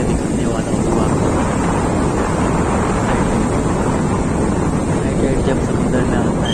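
High-tide sea waves at Juhu Beach in Mumbai wash in as a continuous broadband surf roar, with heavy wind buffeting the microphone throughout and no clear breaks between waves.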